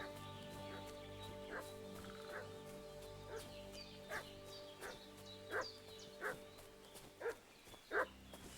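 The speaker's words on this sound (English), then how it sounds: "What's that dog making such a fuss about?" A dog in Kingdom Come: Deliverance II barks repeatedly in a medieval village, with sharp, separate yaps that start faint and grow louder and closer over several seconds.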